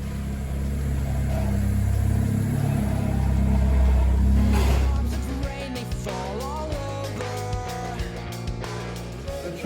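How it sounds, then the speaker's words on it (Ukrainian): A BMW Z3 with a badly leaking exhaust rumbles in a low, loud drone that swells for a few seconds and then drops to a rougher idle, with faint clatter from a self-service garage. "У мене дуже сильно речить вихлоп, е, то зараз будемо його міняти."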